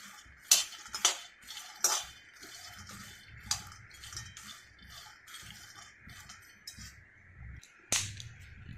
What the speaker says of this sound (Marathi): मीडियम फ्लेमवर आपल्याला ते छान असे त्याचे टर्फल साफ होतील इतक्या प्रमाणात भाजून घ्यायचे आहेत